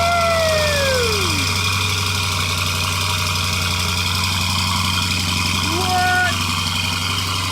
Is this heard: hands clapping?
no